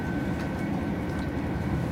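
A Deutsche Bahn passenger train running between Treysa and Stadtallendorf, heard from inside as a steady, loud, continuous rumble with faint rattling and no talking.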